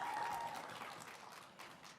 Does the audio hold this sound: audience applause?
yes